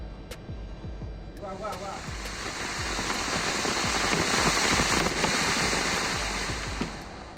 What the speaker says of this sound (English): this time the rocket did not blow up, and it performed quite well as it generated a maximum thrust of around 990 grams